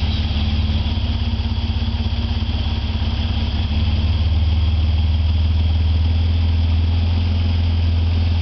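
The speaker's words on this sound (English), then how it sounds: "Electric fan came on." Electric cooling fan switching on in a fuel-injected Austin Healey 3000 with the engine idling, a steady whirring hum over the low engine drone that grows fuller partway through.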